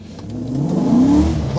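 A Land Rover Defender with a 5.3-litre engine accelerates hard in first gear, its engine note climbing steadily in pitch and loudness from inside the cabin.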